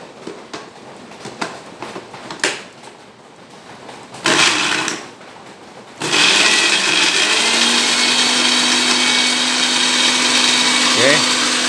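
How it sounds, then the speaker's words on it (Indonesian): An electric blender grinds spices for a home cooking dish, starting abruptly as a loud, steady whirring roar after a stretch of quieter kitchen sounds and brief talk. "Semua bumbu di blender"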